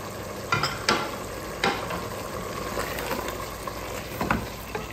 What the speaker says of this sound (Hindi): गोश्त को तेज़ आंच पे भूनेंगे टमाटरों के साथ